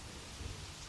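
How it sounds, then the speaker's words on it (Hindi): Rain pours steadily in a soft, even hiss with a low rumbling undertone, faint and continuous throughout, with no voices. "आज मैं तुम्हारे साथ इस बारिश में भीगना चाहती हूँ"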